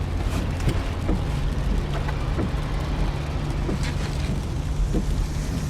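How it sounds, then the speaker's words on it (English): Interior of a car on a drive home, a steady low road and engine rumble with faint knocks and rattles throughout, no talking. "This is the sound of your ride home with Dad after he caught you vaping."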